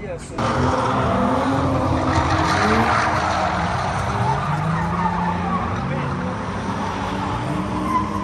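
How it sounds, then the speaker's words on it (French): A car drifting at a drift event, its engine revving in rising and falling sweeps with screeching, skidding tires throughout, loud and continuous, with voices mixed in. "tout ça c'est pour regarder genre le drift"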